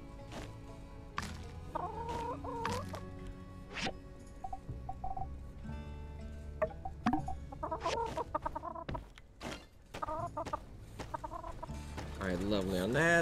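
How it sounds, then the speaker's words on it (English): Chickens cluck in the farm-life video game My Time at Sandrock, with repeated short clucks and squawks over a steady backdrop of game music and ambience. "Let's get the chickens."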